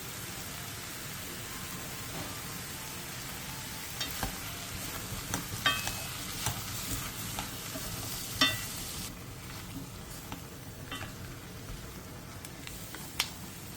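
Squid, onion, garlic and soy sauce stir-fry with a continuous, fairly faint sizzle that sounds like rain, while light clicks and taps from the stirring utensil come through irregularly, with no talk.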